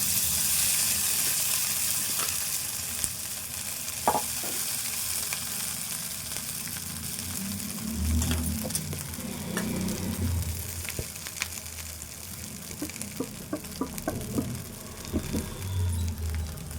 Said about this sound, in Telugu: ఇప్పుడు ఉప్మా రవ్వ ఇందులో వేసుకోవాలి.